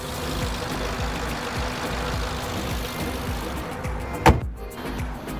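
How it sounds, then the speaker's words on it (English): A 2015 silver Volkswagen Jetta engine idles steadily and quietly up close, a low even hum with a brief sharp thump near the end. "And there's the engine, nice and quiet."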